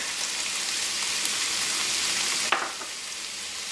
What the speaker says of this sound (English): under medium heat, you just want to cook the garlic and the ginger